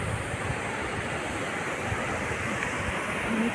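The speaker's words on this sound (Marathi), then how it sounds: "इथे पण असं ओढा वाहत आहे छोटे छोटे धबधबे" A stream flows with small waterfalls along Toran Ghat near Trimbakeshwar, giving a steady, dense rush of water that holds evenly throughout without any talk.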